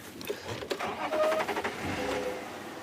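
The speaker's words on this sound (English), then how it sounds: "So I'm just going to start the car." A car engine cranks and turns over amid rattling and mechanical noise on a safari drive, settling into a steady running rumble, close by.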